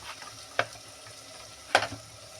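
Red chili powder being stirred into a duck dal with mixed lentils, onion and tomato, two short scraping strokes of a spoon against the pot over a faint simmering sizzle, quiet and close with no talking.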